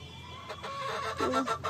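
Hens cluck on a country chicken farm as they climb up into nesting spots to lay eggs. A few close, short clucks rise over a quiet background.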